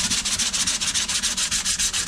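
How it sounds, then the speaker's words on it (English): Steady, rhythmic scratching of coarse sandpaper rubbing back and forth rapidly on fiberglass motorcycle bodywork, loud and close, with no pauses. "I'm sanding the part. I'm using a rough sandpaper"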